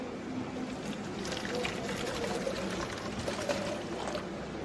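Water pours steadily into a bottle on a workbench while a printed circuit board is being etched, giving a continuous close splashing trickle that runs for several seconds without pause.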